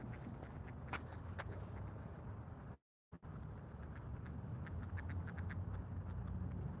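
Ducks quack faintly and sporadically at dusk during an outdoor walk, their calls thin against a low rumble of wind or handling noise, with a brief dropout partway through.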